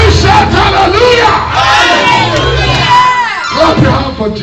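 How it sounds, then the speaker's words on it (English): A church congregation shouting and cheering hallelujah together, a loud roaring crowd of overlapping voices with whoops, rising and falling across the few seconds. "Can you shout hallelujah?"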